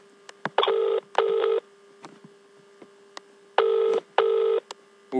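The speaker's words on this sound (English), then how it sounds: "At least it's ringing." A brand-new telephone rings in two pairs of double rings separated by a short pause, clear and close with no voices.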